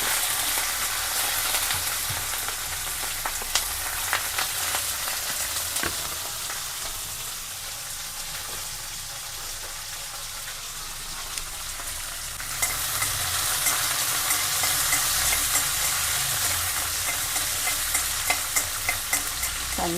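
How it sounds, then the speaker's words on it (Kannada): Chopped small onions fry steadily in a pan for a traditional Karnataka okra curry, a continuous close sizzle with louder crackling bursts in the second half and occasional scrapes of stirring. "ಇದು ಸಣ್ಣ ಈರುಳ್ಳಿ ಅದನ್ನು ಇದ್ದೀನಿ ಅದನ್ನು ಸ್ವಲ್ಪ ಫ್ರೈ ಮಾಡ್ಕೋಬೇಕು"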